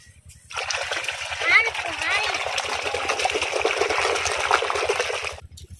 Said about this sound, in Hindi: ये देखें जी सारे कपड़े जा रहे हैं अंदर इस टापे के, सरफ वगैरह डाल दिया है बेगम साहिबा ने।